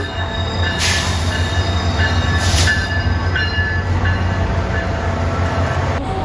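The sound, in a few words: SunRail train pulling into the station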